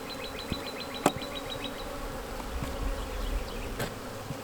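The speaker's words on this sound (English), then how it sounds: "I'm just going to shake these bees off this frame into this hive" Faint buzzing of honeybees as they are shaken off a frame into a hive, with soft thumps and knocks, a few bird chirps in the background.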